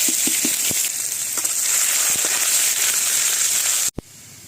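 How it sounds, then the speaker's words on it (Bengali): Ghetkol stalks fry in hot oil with panch phoron and dry chili, a loud steady sizzle running throughout with a few faint pops and clinks, then cutting off abruptly near the end. "প্রথমে ঘেটকুলে ডাটাটা ভেজে নেব তেল দিচ্ছি পাঁচফোড়ন আর শুকনো লঙ্কা"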